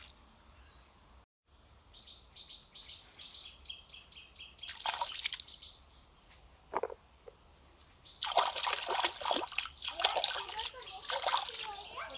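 Taro stems are washed by hand in water, with a burst of splashing and sloshing followed later by a longer stretch of dripping and swishing, while birds chirp faintly in the background.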